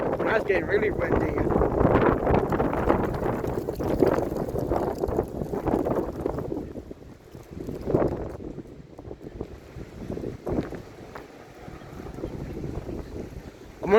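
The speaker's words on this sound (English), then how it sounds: "That's getting really windy." Strong storm wind buffets the microphone in rough, roaring gusts during a stormy day with rotating clouds in Allen County, Ohio, loudest early and then easing, with people talking under it.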